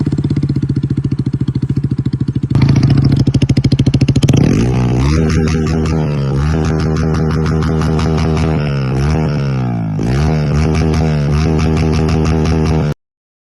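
A Bajaj Pulsar N160 motorcycle engine with its underbelly exhaust removed runs loud and close, idling with a harsh rapid beat, then revving up and down several times.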